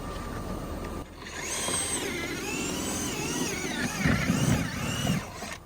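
A power drill punches holes through logs and the plywood beneath them during a winter log cabin build, running with a sustained whine that rises and dips in pitch for several seconds, close and loud.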